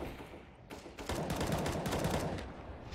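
AK rifle fire rattles in a CS:GO match on Dust 2, with a brief shot followed by a loud, sustained run of rapid automatic gunfire that tapers off near the end.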